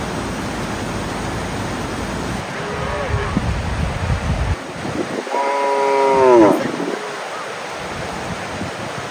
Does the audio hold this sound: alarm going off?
no